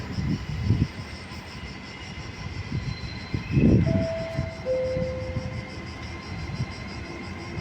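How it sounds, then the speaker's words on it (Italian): A Trenitalia regional train rumbles at Padova station. Low mechanical pulses and rolling noise sound close by, mixed with steady station hum and a couple of brief sustained tones. "Il treno regionale 17082 di Trenitalia, proveniente da Vigo e diretto a Venezia Santa Lucia."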